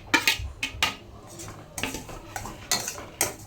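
Spoon clatters and scrapes against a pan while oats, cashews and almonds are stirred as they roast in ghee, a run of sharp metallic clinks in irregular bursts, close and fairly loud, with faint low sizzle beneath and no talking.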